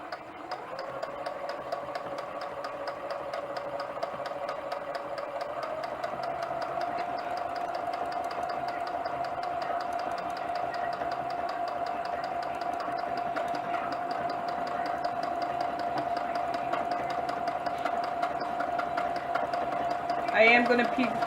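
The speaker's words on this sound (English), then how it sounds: "you just want to start sewing" A sewing machine stitches fabric for a buttonhole with a steady, fast mechanical whir and rapid needle ticking. It runs continuously at close range, with a brief louder knock near the end.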